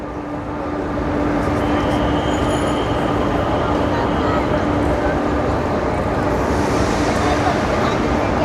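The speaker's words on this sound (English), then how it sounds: "And you can see the train departing on the lowest level." A train rumbles steadily as it departs from the lowest level of a large echoing station in Belgium, with a constant low hum and faint squeals over continuous broadband noise.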